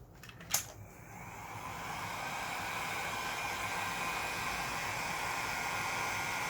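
A heat gun switches on with a click and blows steadily, a continuous close whooshing roar aimed at a plastic toy robot to soften and peel a decal, with no talking.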